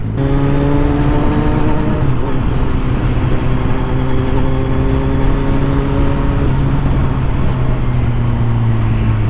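A Kawasaki Z900 with nearly 30,000 km and no major service rides through Bangkok's Sukhumvit streets. Its steady, loud, close engine drone shifts pitch as it changes gear and accelerates.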